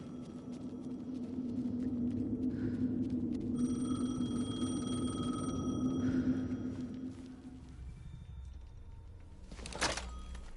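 A telephone rings in the video game Alan Wake 2, its electronic tone repeating steadily over a low droning ambience before a brief thump near the end.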